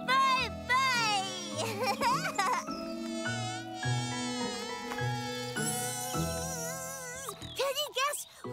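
A voice imitates a buzzing fluffy bug in a kids' cartoon, a wavering insect-like drone that runs throughout over lively background music and sound effects.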